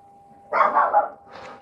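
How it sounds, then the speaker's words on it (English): A dog barks outdoors in a short burst of two or three quick barks followed by a softer yelp, heard at moderate distance over a faint steady hum. "She's out there just standing, barking at nothing."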